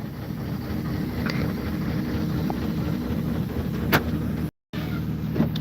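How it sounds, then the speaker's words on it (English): A street sweeper's engine heard from inside the cab, a steady loud low rumble with a few faint clicks over it and a brief dropout near the end. "I hear that engine, yeah."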